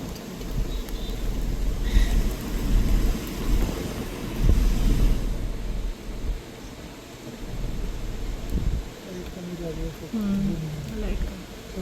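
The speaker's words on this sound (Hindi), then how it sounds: "बिजली भी कड़क रही है।" Thunder rumbles low and heavy through rain and wind on a forest road near Gomti Udgam and the Pilibhit Tiger Reserve, swelling in several rolling waves while people talk over it.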